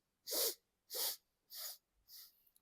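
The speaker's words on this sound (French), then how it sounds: "On va renifler en rebondissant." Four sharp nasal sniffs in a steady rhythm during a breathing exercise, close and clear, each a short burst of breath through the nose, fading slightly in strength toward the end.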